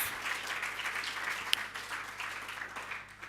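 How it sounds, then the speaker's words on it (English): Steady applause from an audience at a South African government campaign launch event, a dense crackle of clapping hands that holds evenly for the whole stretch, with one sharp louder clap standing out midway. "can we please give a big round of applause to our host, Kylie Chat Development Forum"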